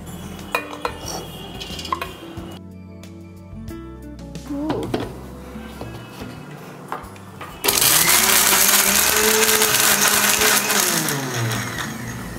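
A kitchen mixer grinder purees drumstick leaves with salt for murungai keerai soup, roaring loudly and steadily in the last few seconds after earlier clinks of utensils and dishes, with faint talk in the background.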